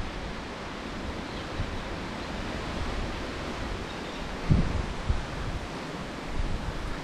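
Steady wind roars across an open waterhole while fishing, a continuous broadband rush with a couple of brief low thumps near the microphone partway through.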